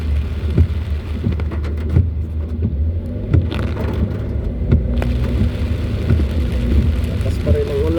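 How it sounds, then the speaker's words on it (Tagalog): Heavy rain in a storm, heard from inside a car driving through the Alabang hills, a dense continuous wash of rain over a low engine and road rumble, with scattered sharper drops throughout. "Lakas pa rin ang ulan guys."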